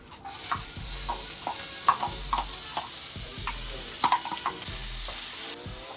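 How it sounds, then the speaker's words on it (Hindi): Cumin seeds and onion frying in hot oil give a close, steady sizzle with crackles and clinking stirs of a spoon in the pan, no voices. "अभी इसमें मैं थोड़ा सा जीरा डालूंगी, उसके बाद में ऑनियन हल्का सा गर्म होने देते हैं।"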